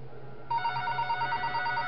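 In the video game Five Nights At SMG4, a phone rings with a rapid warbling electronic trill, moderately loud over a steady low game hum, no talk.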